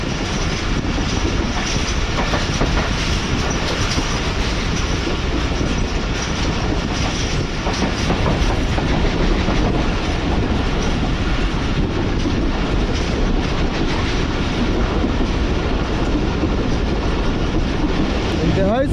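The Karachi Express runs at high speed in heavy rain, a loud continuous roar of wheels on rails with rhythmic clickety-clack and a brief squeal near the end, heard from inside a carriage.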